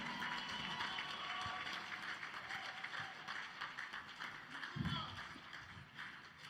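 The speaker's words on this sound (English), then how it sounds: "Put your hands together. Come on, you guys are not clapping well." Applause from an event audience is heard as steady clapping throughout, with a voice talking over it near the start.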